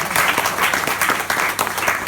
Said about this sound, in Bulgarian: Хора, аплодисменти за Стивън.